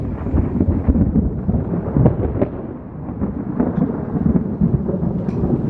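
Thunder rolls during a lightning storm over a backyard garden, a continuous low rumbling that swells and fades with a faint patter of rain.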